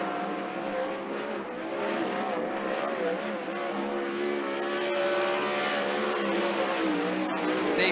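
A 410 sprint car runs a qualifying lap at Skagit Speedway, its engine a steady, loud, high-pitched drone that rises and falls slightly through the corners, with crowd and track ambience under it.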